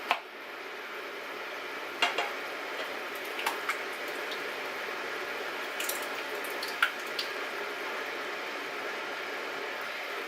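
Bertolli organic olive oil, basil and garlic sauce is added from a jar into a pot of homemade tomato sauce, with soft wet drips and a few light clinks of metal and glass against a quiet background.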